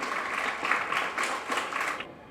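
An audience claps warmly for a poet and storyteller at a children's evening of fun, stories and poetry, a short burst of many hands that fades out after about two seconds.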